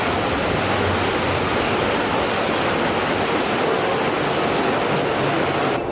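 A small waterfall at Camp Jurassic in Islands of Adventure theme park pours in a steady, close, full rushing wash that holds evenly from start to finish.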